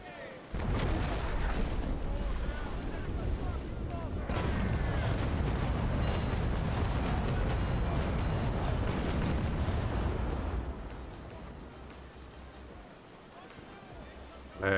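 Ship cannon fire in the Naval Action naval combat game: a dense, sustained rumble of booming broadside fire rolls on for about ten seconds, loud and continuous, then fades to a quieter low drone.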